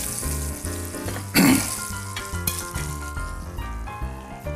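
Egg mixture for a shrimp and butter bread omelette roll hits a hot pan with a sudden loud sizzle that settles into a softer fry, all under background music.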